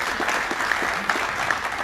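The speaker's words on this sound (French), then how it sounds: "Vous pouvez aussi les applaudir." An audience at an award ceremony for social entrepreneurs applauds in a steady, dense patter of many hands, moderately loud and sustained throughout with no talk over it.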